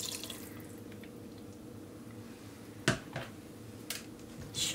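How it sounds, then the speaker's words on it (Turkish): Water being added to a pot of stuffed dried eggplant, zucchini and pepper dolma, a soft trickling wash with a couple of sharp drips or splashes near the end, close and fairly quiet. "Dolmaların üzerine çıkacak kadar su ilavesi yapıyorum yani"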